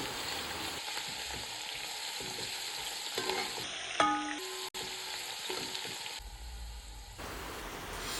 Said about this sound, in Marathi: लसूण लालसर होईपर्यंत तेलावर परतून द्यायचं आहे